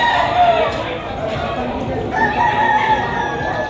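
A banded stag gamefowl rooster crows amid a busy crowd of people talking, its call partly masked by the surrounding chatter and other birds.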